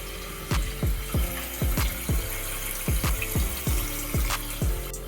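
Water runs steadily into a toilet tank as it refills after a repair, with a constant rushing hiss broken by a series of rhythmic knocking pulses, close and moderately loud, with no talking.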